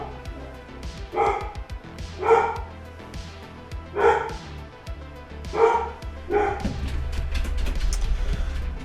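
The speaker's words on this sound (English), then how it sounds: "be able to hear my dog in the background." A pet dog barks in bursts indoors in the background, five or six sharp, well-spaced woofs and yips of moderate loudness, with a low steady hum underneath and no speech.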